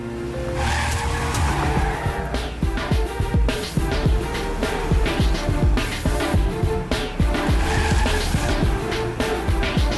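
A car tears away at speed in a movie chase from the 2025 South Indian action film Chamanthi, with loud continuous engine roar, repeated tire squeals and skids, and dense crashing impacts throughout.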